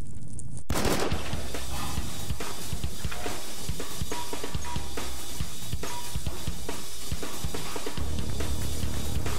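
Dense, continuous gunfire from the video game Rebellions: Secret Game 2nd Stage, rapid bursts and crackling shots layered over a loud, busy battle din.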